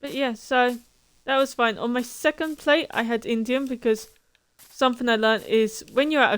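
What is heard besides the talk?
No everyday noises stand out.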